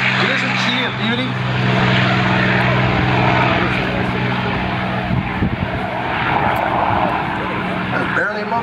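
A P-51 warbird propeller aircraft passes at an airshow, a steady loud engine drone that swells and holds for several seconds, with people talking over it.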